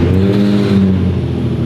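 A 2008 Nissan 350Z drift car with almost no exhaust revs loudly and close by, a rough, buzzing engine note that holds steady and then eases off over a couple of seconds.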